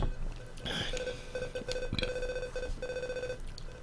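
A phone rings in the handheld video game Metal Gear Solid: Ghost Babel, several short repeated electronic chirps in a rhythmic pattern, played over a constant background hum.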